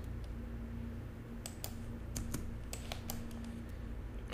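A computer keyboard space bar is pressed, giving a handful of faint, sharp clicks spaced irregularly over a quiet background hum.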